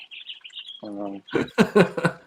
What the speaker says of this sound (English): are those birds at your fucking window or something? Because those birds are annoying as fuck.